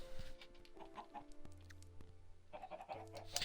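Chickens clucking in Minecraft, several short, faint clucks scattered over about three seconds against a quiet background, with no speech.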